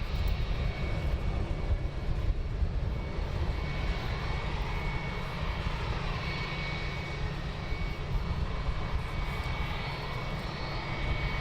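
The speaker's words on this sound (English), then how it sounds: "we do have an EasyJet taxiing out" An EasyJet airliner taxis at London Luton Airport, its engine roar a steady, loud broadband rumble that holds without pause throughout.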